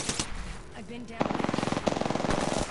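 Rapid automatic gunfire in the battle-royale video game Apex Legends, a fast rattling burst of shots after a brief lull with some voice chatter, loud and close.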